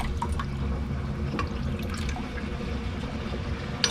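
Water runs from the sink faucet of a Ford Econoline camper van in a steady close splashing stream with light dripping, ending in a few sharp clicks.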